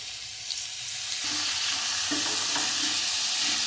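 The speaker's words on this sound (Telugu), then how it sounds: "ఈ బియ్యాన్ని కూడా కొంచెం మంచిగా ఫ్రై చేసేసుకుందాము" Soaked rice for coconut rice frying in a pan, a quiet start that swells into a steady, fairly loud sizzle, with stirring scrapes heard over it and no talk.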